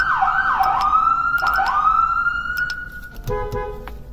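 A Whelen HHS3200 handheld siren in a horn-siren combo setup fitted to a car, loud and close, sweeping up and down in a wailing tone, then ending in a brief steady horn blast.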